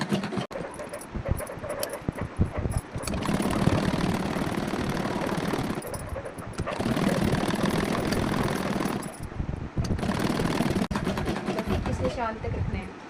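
Sewing machine stitching an umbrella suit, running in sustained bursts of close, steady mechanical whirring, with short pauses between stretches of seam.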